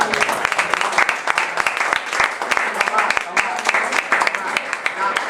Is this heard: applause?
yes